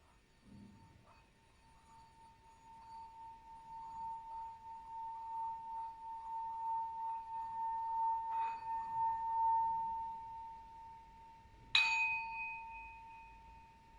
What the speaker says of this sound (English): I will begin to sound the bell to mark the end of today's meditation